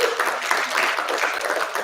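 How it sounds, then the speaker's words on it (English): An audience at a student politics society leadership symposium gives a brief round of applause for the co-presidents: dense, even clapping throughout, fairly close and continuous. "can we give our co-presidents a round of applause"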